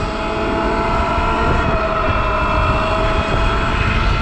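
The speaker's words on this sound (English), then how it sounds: "it's so much louder than the pit bike. It just whines." A loud, steady electric motor whine from a Zero electric dirt bike running on an 80V lawnmower battery drones continuously with broadband mechanical roar underneath, close by and unbroken, with no voices.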